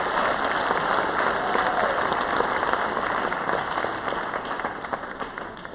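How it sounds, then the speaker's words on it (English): Audience applause at a high school senior scholarship ceremony, a steady dense wash of many hands clapping that holds for several seconds and then eases slightly toward the end. "Please give them a round of applause."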